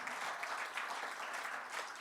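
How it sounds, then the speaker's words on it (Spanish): Steady applause from a church congregation, a continuous wash of clapping at moderate volume with no talking over it. "Un aplauso al Señor."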